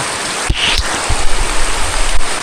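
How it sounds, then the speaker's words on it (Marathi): Steady broadband wash of heavy rain falling on a trail at Sondai Fort, Karjat, with a few low thumps and knocks standing out against the constant hiss. "मस्तपैकी पाऊस पडायला लागलाय"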